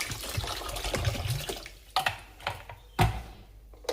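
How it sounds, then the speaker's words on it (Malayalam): Water is poured into a pot of tapioca before cooking, with a continuous gurgling pour that breaks into a few separate splashes near the end. "അതിന് ഇച്ചിരി ഏറെ വെള്ളം ഒഴിച്ചു കൊടുക്കണം."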